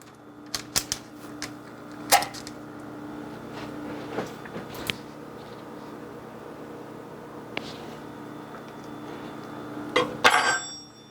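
A knife works through a frozen homemade protein bar on a quiet counter, giving a few sharp cracks and scraping cuts scattered among low background hum, with a brief clatter near the end.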